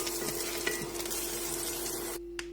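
Chopped garlic browns in two tablespoons of oil in a pot, giving a steady close sizzle with a faint hum beneath that cuts out abruptly near the end.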